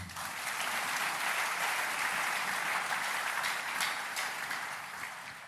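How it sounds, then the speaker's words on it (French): A church congregation applauds the Lord during a French-language sermon, steady broadband clapping from many hands filling the room at an even level for several seconds with no one speaking. "Et celui qui boude, acclamons le Seigneur."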